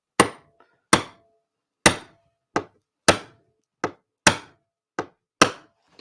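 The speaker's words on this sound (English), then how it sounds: "And I've got a bolt I use just to tap it in" A bolt taps a nail into a model railway sleeper, nine sharp metallic knocks at a slow, slightly uneven pace, close and clear with silence between strikes.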